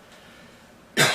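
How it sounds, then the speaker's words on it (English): A man with a persistent cough during a sermon lets out a single sharp, loud cough near the end after a quiet pause. "See if I can quit coughing long enough to finish this message."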